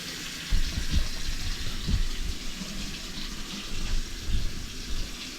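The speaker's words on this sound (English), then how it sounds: "Run the water, see if that takes now." Water running steadily from a faucet into a sink, a constant rushing stream with a few louder gushes.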